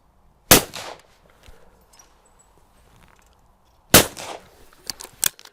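Two shotgun blasts at clay targets from a Browning or Beretta over-and-under, loud and close, spaced about three seconds apart, each with a short outdoor echo, followed by fainter clicks and clatter of the gun being handled.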